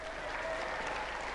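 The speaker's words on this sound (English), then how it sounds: "Ladies and gentlemen, give them a round of applause." A Robot Wars studio audience gives a round of applause, a steady, uniform roar of clapping from a large crowd that continues without a break.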